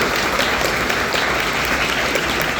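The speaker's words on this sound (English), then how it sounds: "A huge round of applause for Sam and Tim." Loud, dense applause from a Comic Con Baltics audience for two panel guests, a continuous roar of clapping filling the room without any speech over it.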